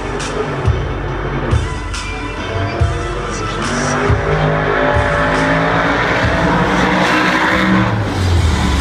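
Bounty Hunter and Team Hot Wheels Firestorm monster trucks roar through practice runs at the 2014 Monster Jam World Finals, loud continuous engine revving with shifting pitch, tire noise and sharp impacts, crowd wash beneath, no talk.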